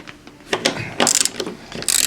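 A ratchet wrench loosens a strut mount nut on a 1998 Audi A6 Quattro, giving short bursts of close, loud clicking as the handle swings back and forth, with brief pauses between strokes.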